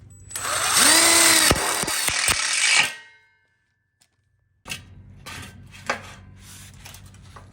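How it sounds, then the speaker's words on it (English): A power drill drives a low profile self-drilling screw into a welded split bar for an outdoor kitchen, a loud sustained whine lasting about three seconds before cutting off, followed by quieter clatter and handling noises. "And then we lock it in with a low profile self-drilling screw."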